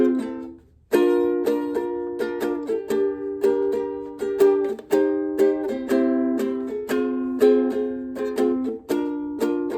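A ukulele strums the chorus chords of a song in a steady rhythm of bright strokes with clear, ringing chord changes, close and without voices.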